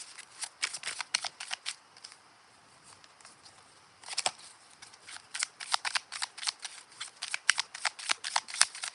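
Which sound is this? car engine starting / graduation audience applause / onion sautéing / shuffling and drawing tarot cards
shuffling and drawing tarot cards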